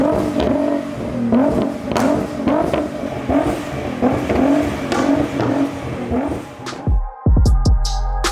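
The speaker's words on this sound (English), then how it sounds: "I'm gonna give you some little rev on the car" A 690bhp Liberty Walk Nissan GTR engine revs repeatedly in short, loud bursts close by for about seven seconds, then the engine note drops away to a quieter idle with some clatter at the end.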